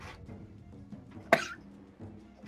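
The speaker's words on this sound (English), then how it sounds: "always cough. I don't know why." One short, sharp cough close to the microphone, standing alone against a quiet background hum.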